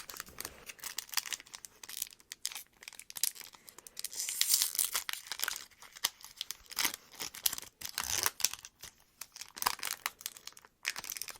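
Foil wrapper of a Magic: The Gathering collector booster pack being torn open up close, with repeated crinkling rips and crackles coming in irregular bursts, with no talk.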